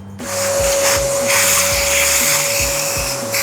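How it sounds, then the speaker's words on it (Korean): A vacuum cleaner runs steadily, sucking up coffee grounds from a Mahlkönig E80S grinder during disassembly cleaning. A close, continuous whine with a fixed tone and a low pulsing rumble beneath, with no talk. "밑날 분해하기 전에 한 번 더 청소기로 원두 가루들을 좀 청소해도록 하겠습니다"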